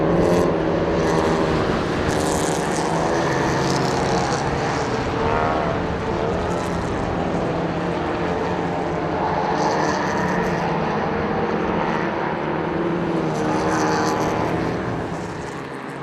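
Early Ford saloon race cars roar past on track in a dense, continuous engine blare that swells and fades as the pack runs by, loud and close throughout.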